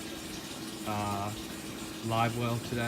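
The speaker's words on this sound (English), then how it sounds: "I'm currently filling it up with the raw water wash down." A Moeller livewell bait tank on a boat fills from the raw-water washdown, a faint, steady trickle and hiss of water running under someone speaking.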